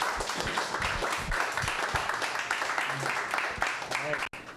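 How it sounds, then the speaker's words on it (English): A tech-event audience applauds, a steady wash of clapping heard at moderate distance with a voice faintly over it. "And can we all please give a round of applause for Nick coming out tonight?"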